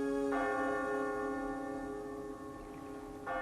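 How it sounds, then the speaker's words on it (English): A town clock bell tolls twice in a quiet setting, each strike ringing out with a rich, sustained resonance that slowly decays before the next stroke sounds. "when the town clock began to toll."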